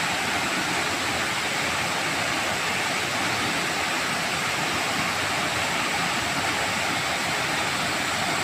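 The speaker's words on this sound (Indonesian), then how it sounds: "Air terjun yang indah." Loud, continuous roar of the Kecalak waterfall, broad rushing water noise filling the whole clip without pause.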